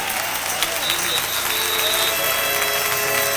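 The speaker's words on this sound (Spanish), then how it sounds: "Un aplauso para Él." A church congregation bursts into loud, dense applause during a sermon, a continuous roar of clapping mixed with crowd voices and a few faint tonal sounds over a steady low hum.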